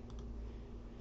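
A few light, quick key clicks on a computer keyboard as numbers are typed, close and alone over a low steady hum.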